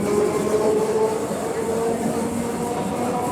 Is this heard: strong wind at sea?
no